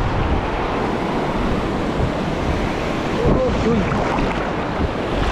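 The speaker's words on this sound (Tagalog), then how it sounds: "Yan naman yung alon." Ocean waves and surf rush continuously under heavy wind noise while fishing at Bolinao. A man calls out briefly partway through.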